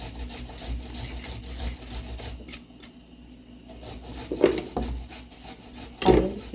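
A spoon scrapes seeds out of a halved green papaya in rough, rasping strokes, continuous and close, with two louder knocking scrapes near the end.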